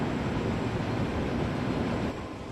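Train running on a line near Leicester in Train Sim World 3, a steady loud rumbling roar with constant rolling noise that drops slightly at the end, no voices.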